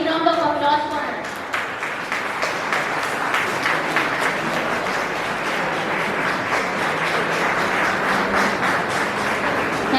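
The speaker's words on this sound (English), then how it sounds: "please give a big round of applause for her" Steady applause from an audience at a school event on communication and management at The Millennium School, a dense wash of clapping lasting several seconds with a voice briefly heard at the start.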